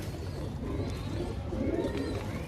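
Soft, low cooing of pigeons murmurs under a constant background hum, a gentle rolling sound close by.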